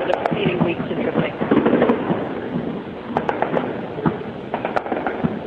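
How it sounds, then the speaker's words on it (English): Scattered sharp bangs and crackling bursts of anti-aircraft tracer gunfire ring out at a distance over Tripoli, irregular and overlapping, over a rumbling background with faint voices. "The tracer fire is going off in all directions."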